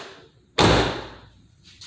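Driver's door of a restored 2001 Pontiac Trans Am WS6 Ram Air shutting with a single solid, close thud and a short fading ring afterward, with no voice.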